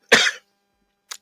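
A single sharp cough rings out close to the microphone, followed after a pause by two brief, faint throat sounds, with no talk over them.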